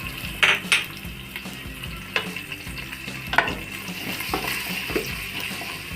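Onions with garlic and ginger sizzle in a pan for desi pulao, a steady close crackle broken by the scrape and clink of a stirring spoon against the pan.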